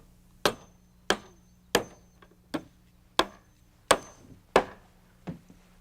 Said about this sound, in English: The last thing we need to do is nail in a 1-inch strip here at the top before we nail the last riser in place.